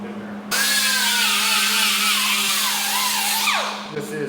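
An angle grinder grinds spots off a steel tube being prepared for welding on a 500 hp square-body truck build, a loud continuous whine that starts abruptly, holds steady with shifting pitch, then winds down near the end.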